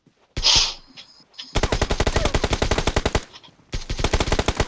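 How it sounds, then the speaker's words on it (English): Video game gunfire crackles in several rapid automatic bursts, led by a single sharp shot and broken by brief pauses, loud and close with no talk over it. "Oh, he's shooting at me."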